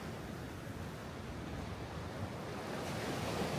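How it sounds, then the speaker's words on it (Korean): Ocean waves break on the shore at Jeongdongjin beach on the Korean coast, a continuous broad wash of surf with wind noise, steady and fairly faint, with no voices. "파도의 하얀 포말이 그림처럼 움직이며 시선을 빼앗네요"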